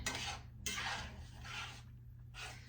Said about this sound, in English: that's when I'm going to add the cheese, the Parmesan cheese, and give it a good stir